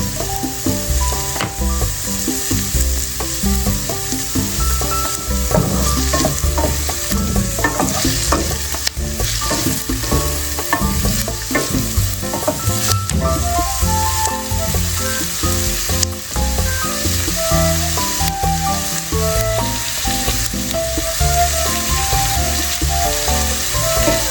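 Garlic sizzles loudly in a hot pan for carbonara, a dense, steady crackle with constant stirring scrapes and clinks throughout, close and uninterrupted by speech.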